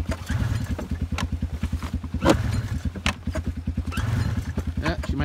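An Arctic Cat ZR440 snowmobile engine, freshly rebuilt, sputters and chugs in a rapid uneven pulse at close range, with a louder burst midway and people talking over it.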